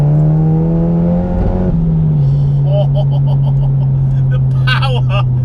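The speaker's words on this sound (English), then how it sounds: "You can blip the throttle like an old school car." A 404 bhp Mk7 VW Golf GTI engine hums steadily close by, its pitch briefly rising in a quick throttle blip before settling back, while a person talks over it.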